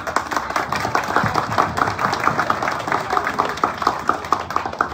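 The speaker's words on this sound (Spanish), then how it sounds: "la magíster Macarena Jiménez, a quien reiteramos los aplausos respectivos." Audience applause at a municipal ceremony in Santo Domingo, a steady, dense wash of many hands clapping that runs throughout at moderate loudness, with some faint murmuring mixed in.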